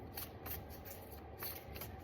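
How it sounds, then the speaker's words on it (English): A deck of oracle cards shuffled by hand, soft riffling swishes repeating in a quick rhythm, close and quiet with a faint hiss underneath. "these are the same cards as I pulled the other day, so I want to shuffle them"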